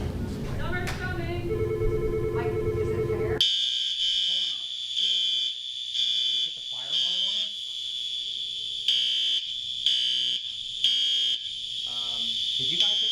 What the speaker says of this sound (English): they hit the fire alarm on us